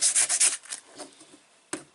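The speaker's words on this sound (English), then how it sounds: "I'm going to try sanding that again for you real quick," Abrasive rubbing of sandpaper across a beveled plastic edge during plastic welding prep, a few quick close strokes that fade, then one short sharp scrape near the end.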